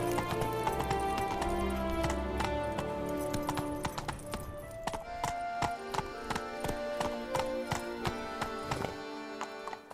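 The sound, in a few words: horse Roach galloping, from The Witcher 3 video game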